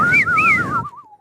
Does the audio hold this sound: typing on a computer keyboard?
no